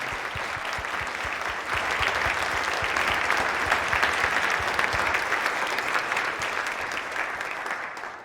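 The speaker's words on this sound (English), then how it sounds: "How about another round of applause for all these students here tonight?" A school audience gives sustained, steady applause for student chamber and concert orchestras after a winter concert, a dense wash of many hands clapping close by at an even level for the whole stretch.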